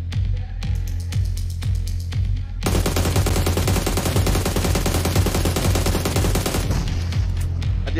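Rapid automatic gunfire from a first-person shooter video game, a few scattered shots followed by a loud, sustained burst lasting several seconds, then trailing off into isolated shots.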